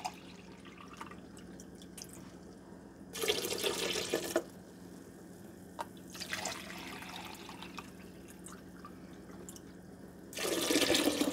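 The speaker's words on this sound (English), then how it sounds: "Now I'm going to add 2 cups of water." Water poured from a cup into a pot of blackberries, cranberries and cranberry juice in a home kitchen, three separate splashing pours spaced several seconds apart, close and clear over a steady low hum.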